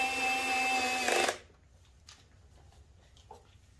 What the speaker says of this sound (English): So you won't risk over torquing these screws with your electric screwdriver